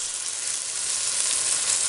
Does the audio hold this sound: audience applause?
no